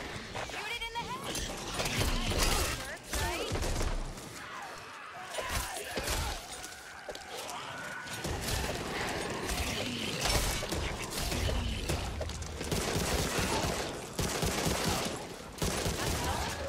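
Gunfire bursts and rapid automatic fire in the zombie shooter game Back 4 Blood, loud and continuous throughout, mixed with shouting players and monster fight chaos.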